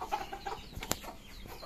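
A rooster returned home after months gives short, faint clucks outdoors, a few soft calls over quiet background with one brief sharp knock.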